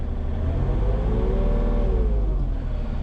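A Kobelco SK-35-SR mini excavator's engine runs steadily and loudly up close, a continuous mid-pitched drone that rises slightly in revs partway through, with no voices over it.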